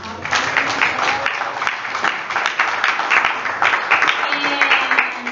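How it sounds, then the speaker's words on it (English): Church congregation clapping for Vacation Bible School helpers during a worship service: brisk, fairly loud applause from the pews with a few sharper individual claps and some voices mixed in. "Can we give them a clap of"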